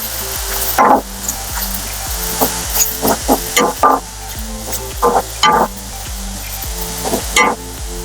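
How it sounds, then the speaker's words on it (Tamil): Onions and tomatoes with salt sautéing in a pan for egg podimas, a steady sizzle broken by repeated loud spatula knocks and scrapes in an irregular rhythm. "இங்க பாருங்க நல்லா வதங்கிட்டு இருக்கு"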